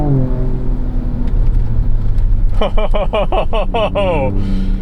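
A 2024 Ford Ranger Raptor pickup, a body-on-frame truck, accelerates hard with its engine rising loudly through the gears, droning low in the cabin with a rhythmic pulsing burst near the end, while someone talks over it.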